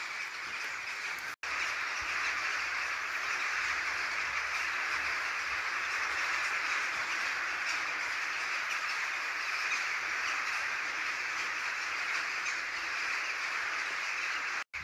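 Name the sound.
many birds in the trees above forest camp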